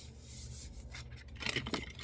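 A scraper rubs and smooths glued paper pages, making a close, quiet rasping scrape in a few short strokes.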